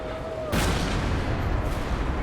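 A loud bomb explosion in the stealth game Thief erupts suddenly and then rumbles on with a broad, sustained roar and crackle, with no talk over it.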